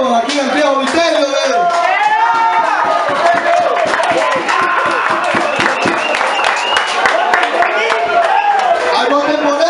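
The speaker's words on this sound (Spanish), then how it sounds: "Despidamos con un fuerte aplauso aquí en Santiago Viterio" A concert crowd in Santiago applauds a band at an eight-year anniversary show, with steady, close clapping mixed with whoops, shouts and chatter throughout.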